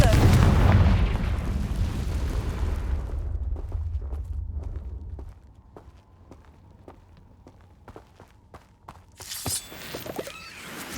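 Confringo fire-spell blasts in Hogwarts Legacy: a loud, dense burst of explosive rumble up front fades into a quieter stretch of sharp clicks and thuds, then a bright crackling flare near the end.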